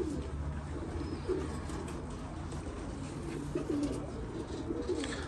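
Pigeons in a loft, soft low cooing in short phrases repeated a few times under a constant background hum, faint and without talk.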